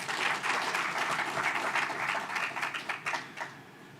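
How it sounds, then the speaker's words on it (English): Sustained applause from an audience at a national health financing dialogue, honoring a ministry department head; dense, steady clapping that thins out toward the end. "Please, a round of applause for him."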